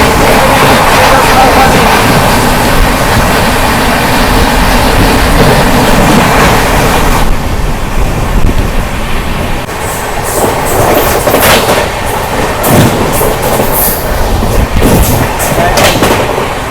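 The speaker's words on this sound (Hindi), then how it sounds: "चलिए शुभारंभ करते हैं पटना तेजस राजधानी की क्रॉसिंग के साथ" The Patna Tejas Rajdhani express thunders past a railway crossing, a loud, continuous roar of wheels and coaches with rhythmic clattering and sharp clicks as the train rushes by close up.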